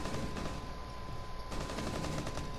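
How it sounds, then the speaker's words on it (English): Automatic gunfire in Rainbow Six Siege rattles as a rapid, steady stream of shots, fairly faint and distant, growing more dense in the second half, with no talk over it. "they're shooting at me"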